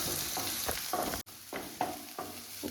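Chillies, onion and curry leaves sizzle in a hot pan with pea shoots, a steady frying hiss broken by a few soft stirring scrapes and one brief gap, with no talking.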